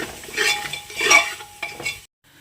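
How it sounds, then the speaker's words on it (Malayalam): Curd is stirred into biryani masala in a pressure cooker, making soft close scraping and clinking stirs in uneven strokes that stop abruptly near the end. "ഇനി നമുക്ക് ഇതിലേക്ക് ഒരു ടേബിൾ സ്പൂൺ തൈര് കൊടുക്കാം എന്നിട്ട് ഒന്ന് മിക്സ് ചെയ്തെടുക്കാം"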